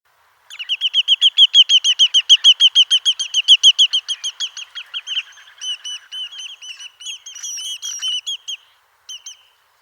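A Lesser Yellowlegs gives a long, fast series of bright, piping call notes that runs steadily for several seconds, then breaks into shorter, looser groups of notes, close and clear against a silent background.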